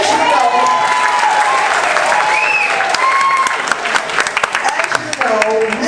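An audience at a health care town hall meeting breaks into steady, dense applause mixed with cheering and shouted voices, loud and continuous throughout.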